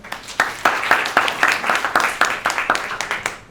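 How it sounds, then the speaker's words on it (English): A crowd applauds, a dense run of claps at a steady level that fades slightly toward the end. "Please give him a big round of applause."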